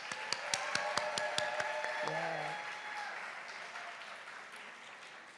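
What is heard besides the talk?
audience applause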